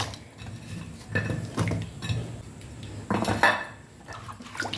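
Mangoes being washed in a metal pot for a mango chutney, with bursts of clattering and knocking against the pot and splashing, sloshing water in irregular surges, loud and close, with no talking.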